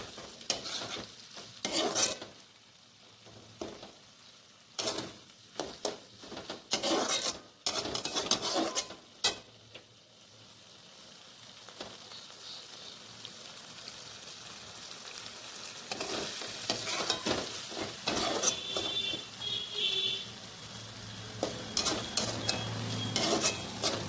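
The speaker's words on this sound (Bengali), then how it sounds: "আলুটা খুব ভালোভাবে কুক হয়ে এসেছে আর সাথে তেলও ছাড়ছে। তোমরা চটপট আওয়াজ নিশ্চয়ই পাচ্ছ।" Potatoes frying in oil in a pan, crackling and sizzling with bursts of stirring and scraping against the pan, the sizzle growing louder and more continuous toward the end.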